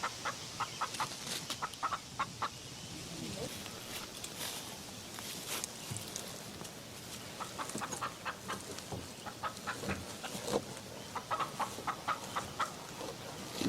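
Chickens clucking and calling on a snowy-season homestead farm, repeated short clucks and squawks near and far over steady barnyard background, with occasional footsteps.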